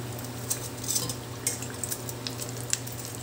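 Large cheese sticks fry in hot oil with a steady sizzle, and a handful of light utensil clicks and taps ring out close by.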